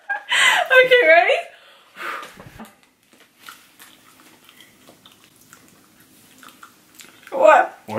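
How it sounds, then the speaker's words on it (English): Someone chews Harry Potter Bean Boozled jelly beans during a taste challenge, with soft, wet mastication sounds between bursts of loud reactions and talk from people nearby. "Why are you chewing like a cow?"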